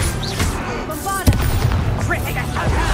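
A Bombarda spell explosion in the Hogwarts Legacy video game, a single sharp blast about midway through, surrounded by game effects and character voices talking.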